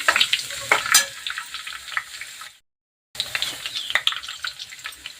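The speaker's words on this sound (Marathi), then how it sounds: "छान तळला गेलेला आहे लसूण आणि जिरं" Garlic and cumin crackle in hot oil with a bright, spitting sizzle and stirring scrapes, broken by a short silence before the frying resumes just as busily.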